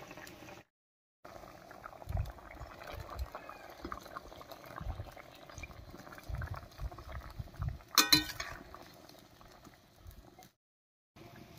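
A pot of puti fish sour curry with chalta bubbles at a rolling boil, soft and close, with a brief clink of utensils partway through.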